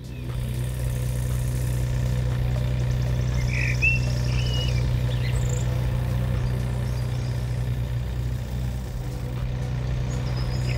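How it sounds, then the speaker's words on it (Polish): Honda Civic in the Japanese Drift Master game idling with a steady low engine hum, while birds chirp faintly and intermittently above it throughout. "Posłuchajcie ptaków i samochodu."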